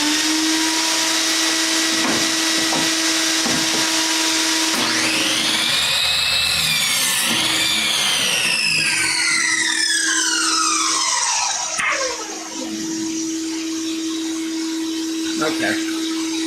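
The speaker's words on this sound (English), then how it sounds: "So, dust extraction noises." A dust extraction vacuum roars loudly and steadily while lumber is cut, and a high whine rises and then sweeps down through the middle of the run.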